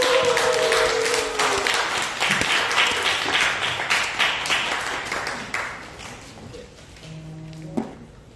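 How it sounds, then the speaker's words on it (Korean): Audience applause welcoming the organizers of a happiness-gathering workshop, dense and steady clapping through most of the span, thinning out toward the end, with a voice briefly over it. "우리 행복모임 준비하신 분들 박수로 맞이하도록 하겠습니다"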